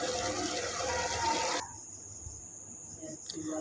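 Water is poured into a pot of beef cooking for a Bengali mangsho recipe, a close rushing splash lasting about a second and a half that cuts off abruptly, leaving a thin high hiss from the pot.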